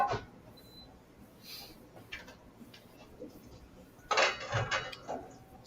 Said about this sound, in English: And now we can transfer everything into a bowl.